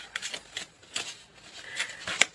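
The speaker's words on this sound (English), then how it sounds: "One more card, and then we will cut the deck." A deck of tarot cards being cut and handled, with a few quick papery riffles and slaps, close and fairly faint, and no voices.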